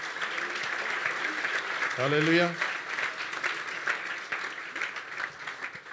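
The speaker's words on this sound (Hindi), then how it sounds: "यस्सु के जलाल के लिए जोरदार तालियां बजाओ।" A church congregation at a sermon applauds with sustained crowd clapping that runs under the whole stretch. A voice calls out briefly partway through, and the clapping carries on as a steady wash behind it.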